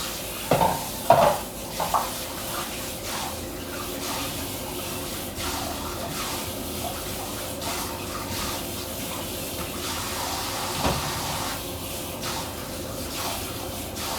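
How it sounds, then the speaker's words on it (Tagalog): Dishes being washed at a home kitchen sink, with a few sharp clinks of plates and cutlery near the start, then a steady wash of running water and soft scraping at close range, with no talking. "Ayan, hugas tayo ng pinggan."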